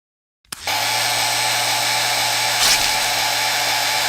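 An electric drill switches on abruptly and runs at a steady, loud, high-pitched whine for several seconds. Its pitch shifts briefly partway through.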